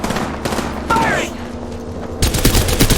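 Gunfire in the Apex Legends video game: rapid bursts of shots crackle close and loud, with a short whooshing effect partway through and a dense volley of fire near the end.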